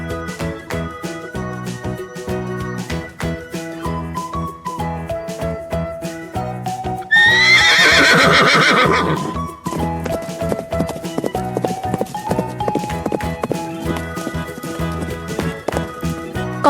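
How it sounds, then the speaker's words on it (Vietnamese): A farm horse whinnies in a rising, shaky burst lasting a couple of seconds, rising over a bouncy children's song with steady music and percussion throughout. "Horse."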